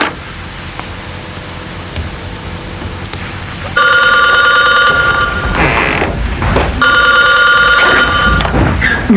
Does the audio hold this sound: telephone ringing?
yes